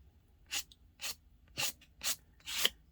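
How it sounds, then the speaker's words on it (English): A card scraping paint across an art journal page in an altered book, five evenly spaced rasping strokes about half a second apart, close and quiet against a silent background. "You want something that's just going to scrape on the color."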